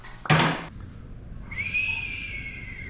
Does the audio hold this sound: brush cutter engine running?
no